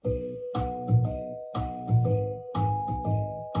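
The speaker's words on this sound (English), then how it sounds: "and then I added bells that do this." Bells chime a Christmas melody in repeating phrases over a low rhythmic accompaniment, with bright ringing tones on each beat and pulses about every half second, moderately quiet and with no talking.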